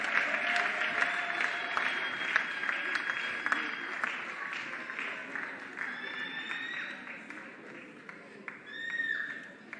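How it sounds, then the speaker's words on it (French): Audience applause for the finalists at a grand final of a talent challenge, a sustained wash of clapping with scattered whistles and cheers rising near the end, moderately distant. "Est-ce qu'on peut applaudir pour eux, s'il vous plaît?"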